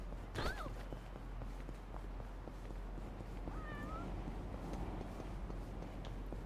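A cat meows in Yakuza: Like a Dragon, one short meow early and a rising, drawn-out meow later, heard at moderate distance over steady game ambience and faint footsteps.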